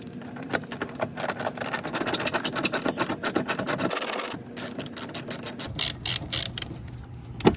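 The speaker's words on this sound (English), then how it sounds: "this is either a 9/32 or a 7mm nut you want to unscrew." A ratchet clicks rapidly and steadily while unscrewing a 9/32 or 7mm nut on a Chevrolet HHR during a turn signal bulb change, close up, with a few brief pauses and changes in pace.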